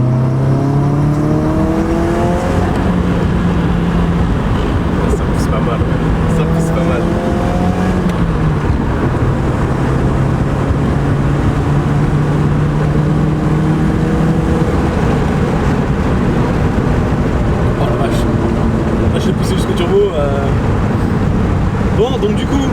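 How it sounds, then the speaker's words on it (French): Nissan S13 engine revving repeatedly through rising and falling pitch sweeps, with turbo spooling and blow-off whooshes, loud and close throughout as the car drives. "on a bien entendu le turbo souffler comme il fallait"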